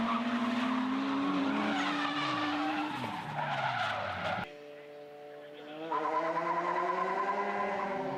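Tires on a drift car shriek loudly as the rear end slides out at a drift competition, with a high squeal over a roaring engine. The squeal drops away briefly, then returns.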